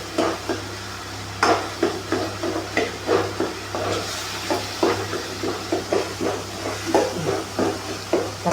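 Tomatoes sautéing in a pan for a quick kurma, with a steady sizzle and hiss under a regular rhythm of close spoon or spatula stirring and scraping strokes.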